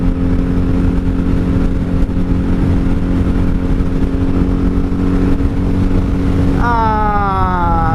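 A 1997 Honda Magna VF750C motorcycle cruising on a highway in fifth gear at about 4,500 rpm, giving a steady, loud engine drone with heavy wind roar throughout, and a brief rising whine near the end.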